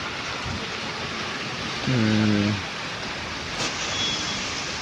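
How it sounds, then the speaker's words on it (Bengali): Steady rain falling in Kharagpur, an even broad hiss throughout, briefly joined by a vehicle horn in the middle. "ঠিক আছে, দেখা যাক বৃষ্টি কতক্ষণে দাঁড়াই।"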